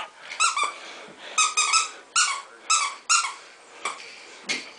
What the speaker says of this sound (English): How do you make this thing squeak?